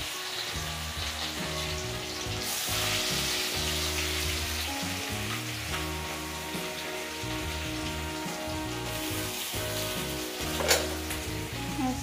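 Chopped medium onion and a teaspoon of cumin seeds frying in hot oil for baingan bharta, a steady close crackling sizzle throughout with occasional stirring scrapes.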